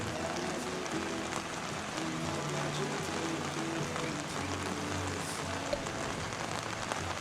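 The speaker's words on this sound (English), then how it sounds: "the torrential rain that we've received here" Torrential rain pours down steadily, a dense hiss of drops on surfaces, with a low rumble of the flooded, raging Coomera River beneath and no voices.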